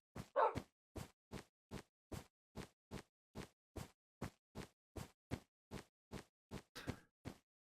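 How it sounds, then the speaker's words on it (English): A pet wolf in the Minecraft video game barks repeatedly, about sixteen short, evenly spaced woofs over several seconds, clear and fairly faint with no talking. "Woof indeed, Wolfie."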